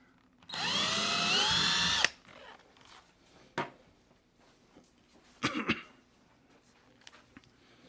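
A power drill bores a hole into a wall for drywall screws, one loud sustained whine of about a second and a half, followed by a few quieter knocks and rustles nearby.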